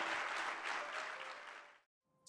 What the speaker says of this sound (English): So let's clap for that.